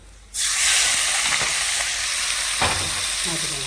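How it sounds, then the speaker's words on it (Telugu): Hot tempering bursts into a loud, hissing sizzle when poured over ridge gourd chutney with green chilies and tamarind in a bowl, then settles into steady close crackling frying noise. "ఇదిగోండి తాలింపు చక్కగా వేగింది చూసారండి"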